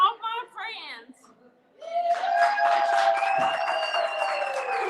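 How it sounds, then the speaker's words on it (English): Crowd at an outdoor Walk to Defeat ALS charity event in Texas cheers and claps, a broad steady roar rising after brief talk and holding loud through the rest, with whoops on top. "Listen to that crowd cheer."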